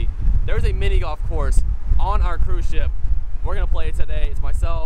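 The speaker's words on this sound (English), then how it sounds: "I apologize for the wind also, it's so windy." Strong wind buffets the microphone on the open deck of a cruise ship beside a mini golf course on a foggy day, a continuous low roar running under steady talking throughout.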